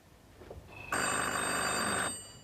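A telephone bell rings in one loud, continuous electric burst of about a second, bright and close, ending abruptly in a quiet room.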